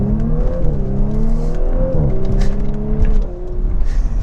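The 3-liter engine of an Audi S5 Sportback revs up and down in a loud, continuous growl, its pitch rising and falling over a few seconds, heard close with no talking.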